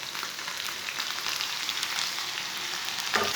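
Chicken sizzles in a pan after chopped tomato is added, a steady, bright crackling fry with small pops throughout, fairly quiet and with no voices.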